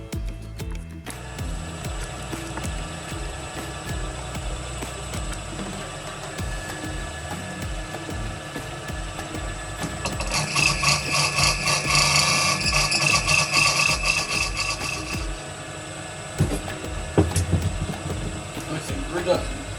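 Diamond polishing machine faceting the Cullinan IV diamond gives a steady mechanical whir with a brighter grinding, rasping burst through the middle, close up and continuous beneath a low background hum.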